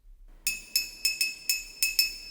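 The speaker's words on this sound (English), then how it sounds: "He also plays the glass bottle, which sounds like this." A glass bottle struck as a percussion instrument gives seven bright, ringing clinks in an uneven rhythm, each with a short decaying tone, close and clear with no talking.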